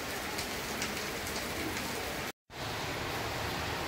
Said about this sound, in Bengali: ভীষণ মুষলধারে বৃষ্টি হচ্ছে